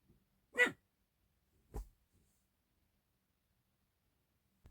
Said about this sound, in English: somehow he starts barking at my door